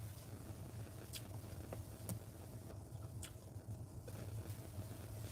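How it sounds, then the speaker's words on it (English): Steady heater fan blowing inside an MG S5 electric car, a broad constant whoosh with a low hum throughout, a few faint clicks and no talking. "This time I have the heater on."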